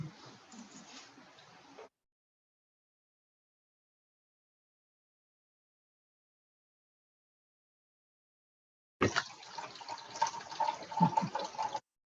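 Water poured onto soil to simulate rain, heard as two separate bursts of splashing and trickling with a long silent gap between them, the second pour louder and fuller.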